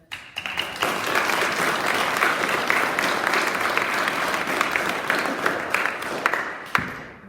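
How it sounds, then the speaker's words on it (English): A crowd applauds continuously for several seconds at a primary school Year 6 graduation ceremony, dense clapping that fades out at the end. "I wanted to give you guys a big round of applause for actually making it through."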